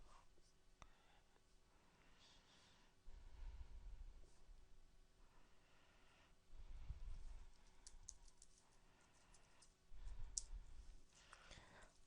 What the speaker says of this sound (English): I'll begin a very broad search of just typing in gender diversity.